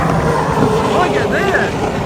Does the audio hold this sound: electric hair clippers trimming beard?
no